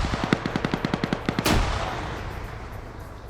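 Rapid burst of PKP machine gun fire in a multiplayer video game, about a dozen evenly spaced loud shots over a second and a half, then a heavier blast that trails off into a fading rumble, with no talk.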